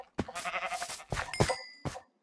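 Sheep in the Minecraft video game bleat in a few short, wavering bursts, fairly close and clear, with brief pauses between calls and no talking over them.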